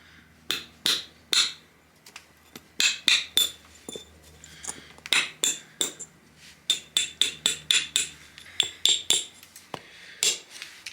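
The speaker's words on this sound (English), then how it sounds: "Now I'm going to try and break this edge." A flint flake is struck again and again to break off and reshape its edge, giving sharp, close, clicking knocks that come in quick irregular bursts with short pauses between them.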